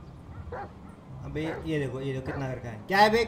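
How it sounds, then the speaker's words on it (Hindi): A dog in GTA 5 gives a short run of yips and barks that mix with someone talking over them. "क्यों भौंक रहा है?"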